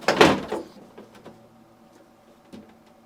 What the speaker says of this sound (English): To install the lower drawer, insert it at an angle, making sure it sits beneath the support glide rail.